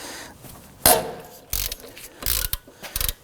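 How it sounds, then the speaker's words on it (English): A hand ratchet loosens rusted, penetrant-soaked steering knuckle bolts on a 2005-2009 Subaru Legacy, sounding as several loud, close bursts of rapid clicking separated by short pauses. "I'm going to use my ratchet."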